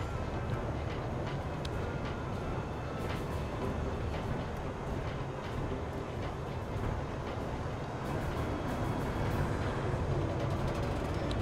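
Moving train in Secret World Legends, a constant low rumbling clatter of rail wheels and wind held at an even, moderately faint level throughout with no break.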